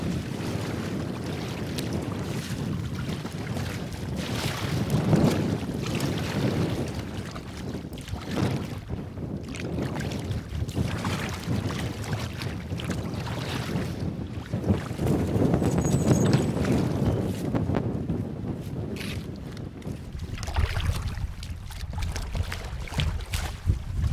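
Gusty, cold wind buffets the microphone in rising and falling waves while canoeing on Lows Lake in the Adirondacks, with faint water and paddling sounds underneath and no talking.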